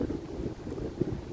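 Steady wind rushing and buffeting outdoors by the St. Lawrence River, a low continuous roar with a brief gust near the end.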